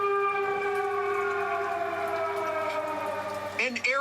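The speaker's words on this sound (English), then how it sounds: "An air raid siren rings out in the city of Lviv, but no one flinches." An air raid siren wails across the city of Lviv, a long sustained rising-and-falling tone heard from a distance and carrying steadily throughout, with a brief burst of nearby noise near the end.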